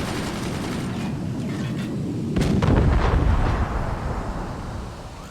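Cannons fire in the Forts RTS game, a thundering burst of artillery blasts swelling midway into a dense rumbling barrage that slowly fades.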